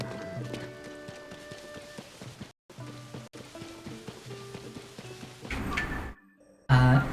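A horse gallops in the video game Tears of the Kingdom, its rhythmic hoofbeats running under layered game music that drops out briefly before louder tones return.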